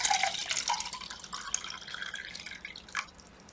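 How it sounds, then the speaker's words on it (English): Water is poured into a cup close up, with splashing and dripping that starts loud and slowly softens as the cup fills, ending in a few last drips. No one talks. "So let's pour the water in there."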